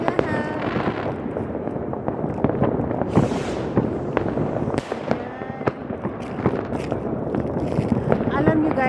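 New Year fireworks burst in a continuous barrage of cracks and booms, some near and sharp, others distant, with crackling firecrackers layered throughout and voices talking underneath.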